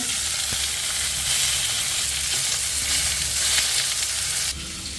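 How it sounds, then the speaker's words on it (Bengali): Constant hissing sizzle of pomfret fish frying in a pan, close and even throughout with no talking. "বসে মাছ ভাজা দেখছে"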